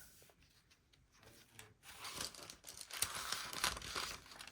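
Sheets of tracing paper are handled in a junk journal made from a Little Golden Book, giving a quiet crinkling rustle that swells louder and busier halfway through.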